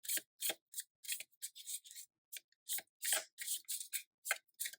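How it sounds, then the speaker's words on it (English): Tarot cards being shuffled by hand, a run of brisk papery riffles and slides in uneven bursts with short gaps, close and fairly quiet, with no talking. "So let me just finish shuffling."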